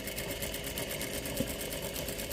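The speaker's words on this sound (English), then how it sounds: "So now we're going to chain piece these through the sewing machine." A sewing machine stitches fabric pieces chain-pieced for a star block of flying geese units, a steady, close, rapid mechanical whirr running continuously without pause.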